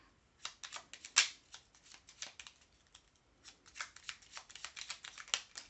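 A deck of cards is shuffled by hand close by, giving quick bursts of crisp riffling and slapping, in irregular clusters with short pauses between them.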